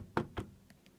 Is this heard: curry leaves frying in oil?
no